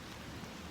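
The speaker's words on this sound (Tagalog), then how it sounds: "Umuulan guys." Steady rain falls outdoors near a school, a dense even hiss filling a brief moment with no voices over it.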